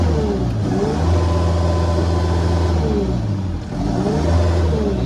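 Case TV370 compact track loader with its engine revving on the foot throttle, a loud close diesel drone that rises and falls in pitch in repeated surges.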